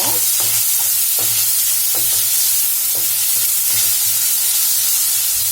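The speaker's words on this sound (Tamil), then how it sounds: "இது எல்லாத்தையும் நல்லா வதக்கிடலாம்." Green chili and curry leaves sautéing in hot oil for a pepper egg masala, a steady close sizzle broken by repeated spatula stirs and scrapes against the pan.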